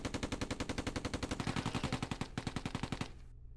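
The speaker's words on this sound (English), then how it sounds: "Let's get some suppression fire down on them." Sustained suppressive machine-gun fire in the Close Combat II: A Bridge Too Far wargame, a rapid, even stream of loud repeated shots lasting about three seconds before cutting off abruptly.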